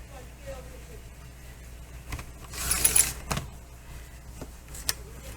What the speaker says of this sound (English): I am going to bring up my trimmer. And I'm going to be cutting this piece of paper.